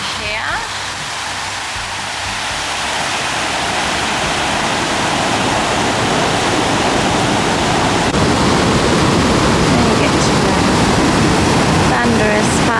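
A thunderous waterfall pours down rocks off the Gibb River Road, a dense, steady roar of rushing water that builds and then stays loud and unbroken throughout.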